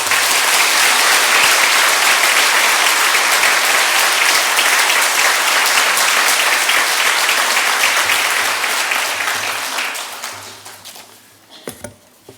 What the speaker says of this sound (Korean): 우리 장로님께 감사하는 마음을 박수로 환영하겠습니다.